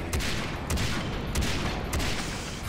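Gunfire in the video game Far Cry 3: Blood Dragon, a steady dense stream of shots with a few louder bursts spaced about every half second, loud and continuous with no talking.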